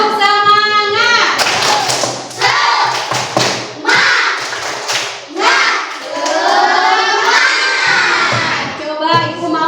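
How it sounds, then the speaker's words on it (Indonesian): Schoolchildren in a classroom perform a rhythmic spirit clap, with loud patterned claps, thumps and shouted chanting voices filling the room in quick repeated bursts. "Tepuk semangat."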